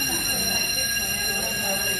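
An alarm in an Italian restaurant kitchen rings as a steady, continuous electronic tone, with voices talking over it.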